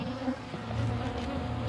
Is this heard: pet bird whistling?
no